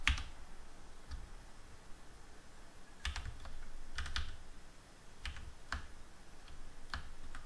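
Computer keyboard keys are struck while code is entered in Houdini, producing sparse, separate clicks spaced about a second apart, close and fairly quiet over a steady background hiss, with no voices.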